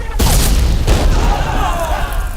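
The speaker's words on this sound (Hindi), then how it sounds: "जब तक किले पर मशाल ना दिखाई दे तब तक तोपें चलती रहनी चाहिए।" Cannon fire in a historical battle scene at a fort: a heavy booming blast with deep low rumble right at the start, another impact near the one-second mark, and a dense roaring din sustained throughout.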